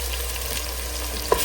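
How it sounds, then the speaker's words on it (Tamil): Ginger garlic paste frying with softened onions in a pan for a seeded samba country chicken biryani, a steady close sizzle with a brief stir clink near the end. "இஞ்சி பூண்டு பேஸ்ட்னா நல்லா வதக்கணும்."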